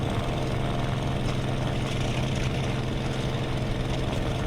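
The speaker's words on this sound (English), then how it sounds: "Oh, over-revving the engine," Engine of a car in the video game Aces of Thunder, over-revving with a steady loud drone and rough, spitting roar that holds throughout without a break.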